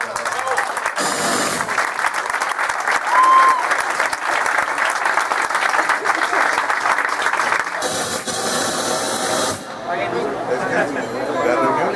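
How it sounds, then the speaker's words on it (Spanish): Sustained applause from an audience at a political event welcoming a guest, loud and continuous with crowd chatter mixed in and a voice speaking over it. "Un fuerte aplauso para recibir a"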